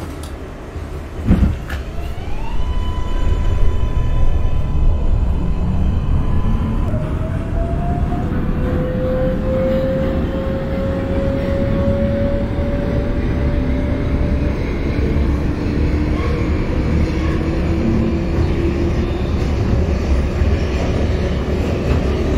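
An NYC Subway R142A 5 express train in the OpenBVE train simulator departs with a loud rumbling roar and rising motor whine, a sharp door thump near the start, the drone building steadily and holding.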